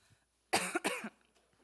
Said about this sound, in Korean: 제가 기침 감기가 걸려가지고